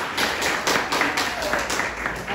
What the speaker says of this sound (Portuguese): mais uma salva de palmas a ela